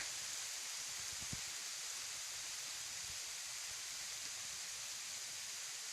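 Steady rain pours down in a rural Thai farming setting, a dense, continuous hiss with occasional low thumps and patters, loud and even throughout with no voices.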